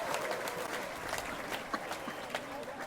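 Studio audience of a spiritual talk show clapping, fairly quiet and diffuse with a few sharper individual claps standing out.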